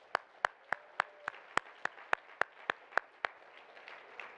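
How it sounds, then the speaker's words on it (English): A dozen evenly spaced, separate claps ring out at a slow, steady pace as an audience applauds Chef José Andrés at a plenary session on immigration, fairly faint with no voices over them, then trailing off. "Let's give Chef Andrés another round of applause."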